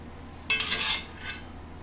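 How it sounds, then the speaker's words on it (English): A utensil scrapes and clinks against a pan while meat and onion mixture is spread over a layer of hash browns, one short close burst followed by a fainter scrape. "we just spread that meat and onion mixture out over our first layer of hash browns"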